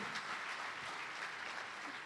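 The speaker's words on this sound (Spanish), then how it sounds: "Dale un aplauso al Señor." A church congregation applauds the Lord during a sermon, a soft, distant and continuous patter of clapping that holds at an even level.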